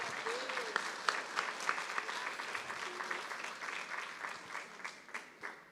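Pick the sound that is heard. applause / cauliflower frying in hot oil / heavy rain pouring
applause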